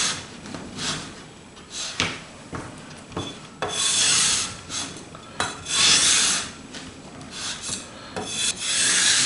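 Sandpaper rasps back and forth across a worn Avon Marauder guitar fretboard, close and steady, with rhythmic strokes that build into longer scrubbing passes and no talking.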